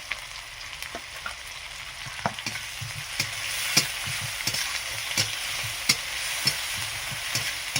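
Onion, ginger and garlic paste sizzle in a hot pan while a spoon scrapes and stirs in irregular clicks and taps, close and moderately loud with no talk.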